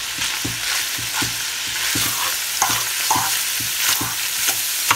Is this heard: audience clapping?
no